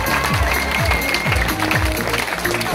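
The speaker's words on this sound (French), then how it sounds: "Allez, on lève les mains, on applaudit plus fort." Outdoor crowd clapping and cheering at a post-Tour de France cycling criterium in Lisieux, a steady dense applause with a loud announcer and music over it.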